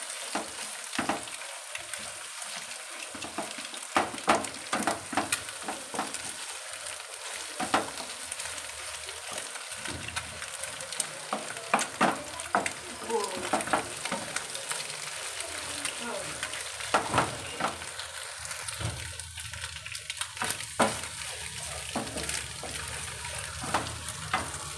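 Thick egg pieces frying in a pan for egg fried rice, a continuous crackling sizzle with frequent scraping stirs, steady throughout and no clear speech.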